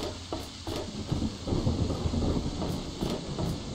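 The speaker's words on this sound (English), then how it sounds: "Yay to the rain." Steady rain pours down with low rumbling thunder rolling underneath, a continuous stormy wash with no voices, in the video game Fallout 3.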